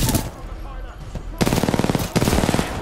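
Rapid automatic gunfire in the shooter game Titanfall 2, loud bursts of tightly spaced shots in two volleys after a quieter lead-in, with faint voice beneath.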